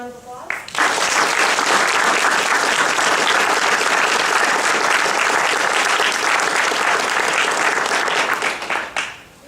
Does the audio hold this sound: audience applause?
yes